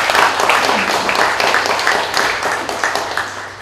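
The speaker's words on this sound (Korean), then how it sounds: "이쯤에서는 박수 한번 치셔야 됩니다." Audience clapping at a university labour union's general meeting and inauguration ceremony, a steady wash of applause from a crowd filling the room for a few seconds.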